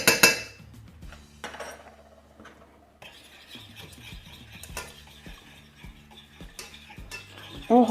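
A utensil stirs beet and soy cream with agar-agar in a pan: irregular close scraping strokes against the pan, alternating with brief pauses and light clinks.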